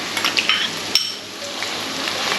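Garlic and chopped ginger fry in coconut oil in a pan, a soft steady sizzle with a few light clinks of a utensil against the pan near the start.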